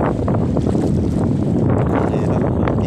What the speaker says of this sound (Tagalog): ang laki na ng tubig, ang lakas pa ng hangin.